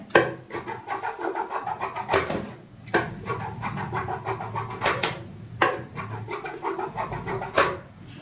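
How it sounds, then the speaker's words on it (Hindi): Scissors trim excess fabric from a freshly stitched cushion cover, giving a few sharp, separate snips over steady rubbing and rustling of cloth. "अब फिर से एक्स्ट्रा जो कपड़ा होता है उसको हम काट लेते हैं"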